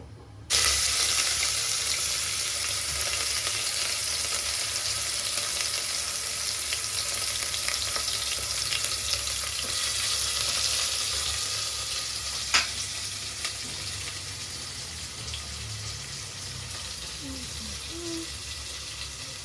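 Onions frying in hot oil with whole spices such as cloves, cinnamon and cardamom, giving a steady broadband sizzle that holds close and even throughout, with one brief clink near the middle and no talking.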